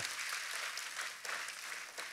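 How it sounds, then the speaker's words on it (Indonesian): A church congregation claps together in sustained, dense applause during a worship service, steady and fairly even throughout without talk over it. "Tepuk tangannya yang paling meriah buat Tuhan kita"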